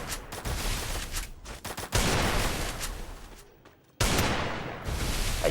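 Gunfire from the Free Fire mobile game comes in rapid automatic bursts in a 1v1 custom match. Dense volleys are broken by brief pauses, and a near-silent gap leads into another loud burst. No one speaks.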